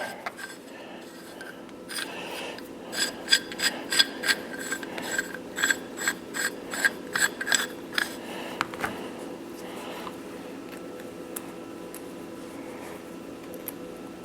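Matrix puller collar being loosened on a Ruger Mini 14 rifle, a run of sharp metallic ratcheting clicks in quick bursts, close and clear, tapering off into a few scattered faint clicks.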